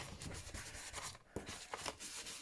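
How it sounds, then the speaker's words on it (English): Ink pad rubbed along the edges of paper to give an aged look, a soft continuous scuffing and brushing close by, with short repeated strokes and no talking. "So I'm just inking up these edges."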